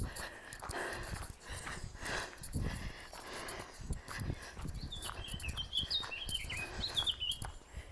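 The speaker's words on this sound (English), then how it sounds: "The bird song makes me happy." Faint, high birdsong chirps and warbles drift in during the second half of a morning outdoors, distant, beneath rustling and soft outdoor noise.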